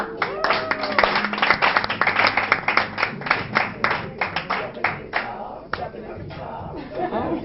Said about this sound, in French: On applaudit Doubi.